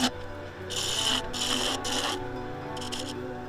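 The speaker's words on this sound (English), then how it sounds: "I'm going to come up the wall again with another shear scrape" A shear scraper scrapes the inner wall of a redgum and epoxy bowl on the lathe, giving several rasping bursts of varying length over the steady lathe hum.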